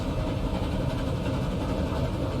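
A steam train running in the video game Transport Fever 2, a dense continuous low chugging rumble with rhythmic piston pulses, loud and steady throughout.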